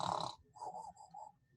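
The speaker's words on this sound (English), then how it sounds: "Just snoring up a storm." Sleeping bear in a storybook cartoon, snoring very quietly: one raspy breath followed by a drawn-out, rumbling snort with a few pulses.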